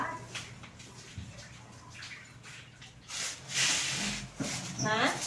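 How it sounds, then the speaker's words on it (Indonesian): Water poured into a bucket during morning housework, a rushing splash and gurgle that swells toward the end, with people talking over it. "ini airnya tinggal tuang ke ember"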